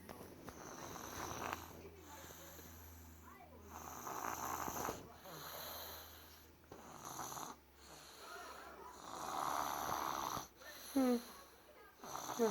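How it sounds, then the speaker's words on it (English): A man snores while lying down to sleep, slow rasping inhales and snorts repeating every couple of seconds, close and fairly soft in a quiet room. "That man snore."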